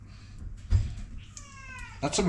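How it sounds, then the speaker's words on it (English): A cat meows and caterwauls nearby while a dog and cat scuffle indoors. The cries are short and rising, mixed with thumps and a clatter, and there is talk in the background. "dog and cat fighting behind me"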